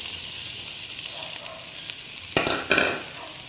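Onions and beans sizzle in a hot pan as a vegetable lumpia filling cooks, giving a steady soft fry with a few sharper scraping stirs toward the end.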